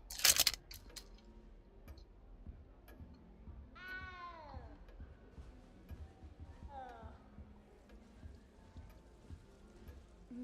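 In a Wizarding World video game, a cat lets out two drawn-out meows several seconds apart, the first louder and longer, over quiet ambient noise and footstep-like clatter.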